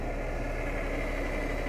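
A Ural vacuum truck's engine idling just after starting, a steady moderately faint mechanical hum and vibration with no break.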